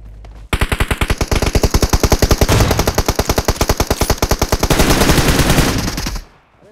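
Machine gun fire rattles through a video game scene in a long, rapid, evenly spaced burst of loud shots lasting about six seconds before stopping abruptly.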